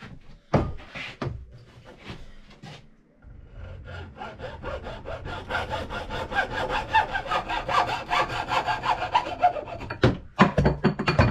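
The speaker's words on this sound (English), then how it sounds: "let's cut a bit of pipe and see if it clamps together." A saw cuts through plastic water pipe during a first-time plumbing install in an old house, with steady rhythmic rasping strokes building from about 3 to 10 seconds, preceded by a few knocks and followed by sharp handling clunks, close and fairly loud.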